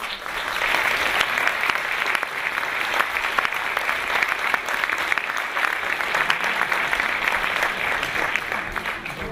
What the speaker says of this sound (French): mais on les applaudit très très très très fort.